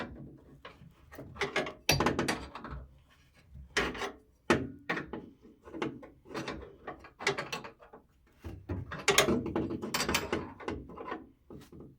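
A spanner tightens a fitting on a Baxi Duo-tec central heating boiler, making irregular scraping, rubbing and clicking bursts of metal on metal, close and moderately quiet, with short pauses between efforts.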